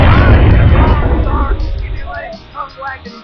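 A loud game explosion booms and rumbles, then fades while voices chatter excitedly over the tail.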